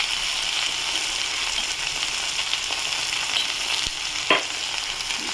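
Spices frying in a pan with salt and turmeric added, a continuous close sizzle with a few scraping stirs and a sharp clink near the end.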